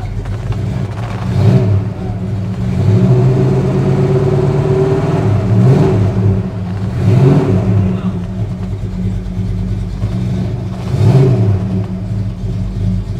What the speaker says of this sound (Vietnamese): Tiếng động cơ rất là êm nha